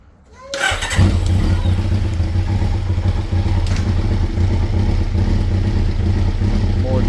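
A 1990s sport bike that had not run since 2006 starts on the choke, cold-blooded. After a brief quiet moment the engine catches and settles into a loud, steady, close-up running rumble with some clatter.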